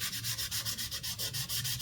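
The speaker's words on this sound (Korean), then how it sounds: "이제 휴지를 이용해서 연필선을 전체적으로 뭉개주겠습니다." Tissue rubbed back and forth over drawing paper to smudge pencil shading, a soft, steady rhythmic scrubbing in quick even strokes, close and alone.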